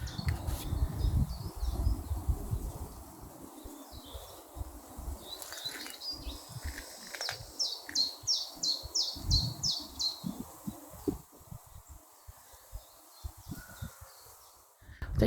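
Small tit birds sing near a waterway, quick thin repeated chirping notes in a short rhythmic run over outdoor wind and rustling, moderately distant and fairly faint.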